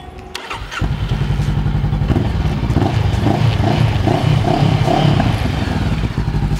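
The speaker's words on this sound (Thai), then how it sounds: "เรามาสตาร์ทเครื่องเลยนะครับผม" A 2017 Honda CB500F motorcycle engine cranks and fires after a brief pause, then settles into a loud, steady close-up idle with a throbbing, even rumble and some mechanical clatter.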